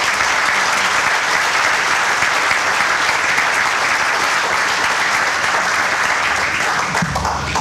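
Loud, sustained applause from a large crowd at a stadium renovation groundbreaking ceremony, a dense continuous roar of clapping that holds steady throughout.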